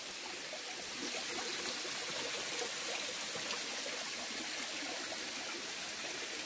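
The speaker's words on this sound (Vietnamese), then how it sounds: "chỗ trước mặt mình là một cái thác mọi người" A tall rainforest waterfall pours into a stream, a dense, steady hiss of rushing water that stays even and full throughout, with nothing else heard.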